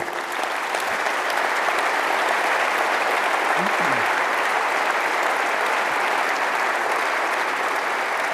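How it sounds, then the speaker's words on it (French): Steady audience applause at a French business speech, a dense and even clapping that fills the room for about eight seconds without pause. "s'il vous plaît, qu'on les applaudisse"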